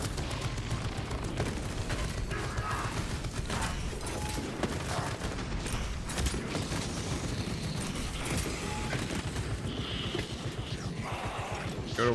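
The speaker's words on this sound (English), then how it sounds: "Activating tarantula sentry gun." Tarantula sentry gun turret firing in a video game, a dense, sustained clatter of rapid shots with mechanical noise and booms, loud and continuous across the whole stretch.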